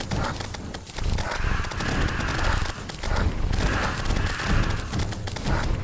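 Magic weapons fire continuously in Terraria during an open-field event with Nebula armor, a dense rapid rattle of clattering shots and impacts that holds steady at close range throughout.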